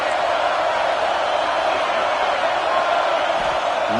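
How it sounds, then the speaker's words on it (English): A college football stadium crowd roars on third down at Alabama versus LSU, a dense, continuous wash of cheering noise with no break. "Third down, and the crowd really getting into it."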